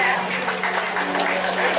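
A wedding crowd applauds the son-in-law during the ceremony, a steady wash of clapping that runs beneath a loud voice speaking over it.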